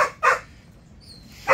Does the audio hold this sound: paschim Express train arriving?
no